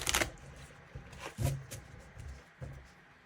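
A deck of tarot cards is shuffled by hand in a few separate bursts, with a quick riffling flutter at the start followed by softer papery slides and taps, close and quiet.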